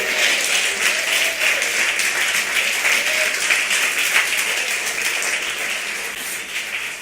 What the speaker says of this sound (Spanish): Si ese aplauso era para el Señor, quedó corto.